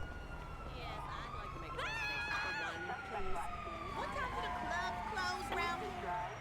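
A wailing police car siren in GTA 5 sweeps up and down through the scene, fairly distant, over steady traffic noise, while a voice talks over it.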